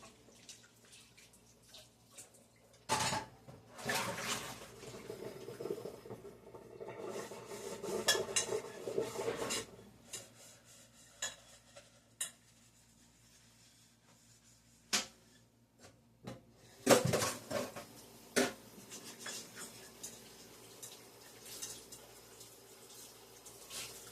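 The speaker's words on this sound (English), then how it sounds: "now is a good time to get the dishes done" Dishes, pots and pans are washed in a kitchen sink, with running tap water, splashing and scattered clinks of cutlery and cookware coming in uneven bursts over a fairly quiet background.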